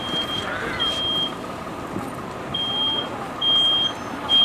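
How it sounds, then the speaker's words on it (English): Photoelectric smoke alarm in a non-sprinklered room during a live burn demonstration, sounding repeated high piercing beeps in intermittent bursts, moderately loud over a low rumbling background. "The photoelectric smoke alarm is the one that you hear sounding"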